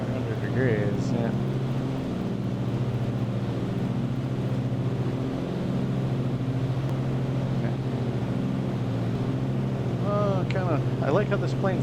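A propeller plane's engine in Microsoft Flight Simulator 2020 drones steadily and evenly throughout, with cowl flaps mentioned for the engine. Brief speech-like sounds appear near the start and again toward the end.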